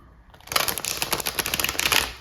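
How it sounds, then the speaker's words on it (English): Tarot cards are shuffled in a quick burst of crisp riffling flutters that start after a short quiet pause and continue densely for about two seconds, close and fairly loud. "So we're going to do tarot. I'm going to shuffle."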